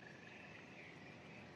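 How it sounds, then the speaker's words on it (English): Frogs giving mating calls outdoors at night, a faint steady chorus of trilling croaks with insect-like buzzing, distant and continuous. "Those are frog mating calls."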